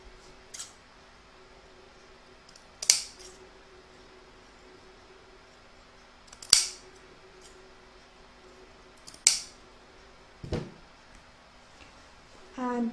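Scissors snip through quilt fabric in four or five separate, crisp cuts spaced a few seconds apart, close and fairly quiet over a faint steady hum.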